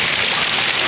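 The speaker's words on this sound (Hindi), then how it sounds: "इतना बारिश हो रहा है कि नदी भी भर रहा है धीरे धीरे" Heavy rain pours down steadily in a dense, even hiss, a brief close wash of sound with no voices.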